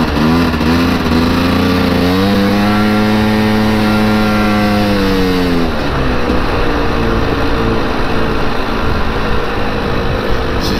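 A loud, lean-running Polaris Scrambler 400 ATV engine revs up and holds a high whine, then drops back to a rough, rattling idle, close and constant.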